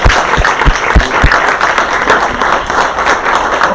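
Applause and clapping from a standing lecture audience in Atlanta, dense and steady throughout, with a few sharper thumps or stomps near the start and a faint voice or two mixed in.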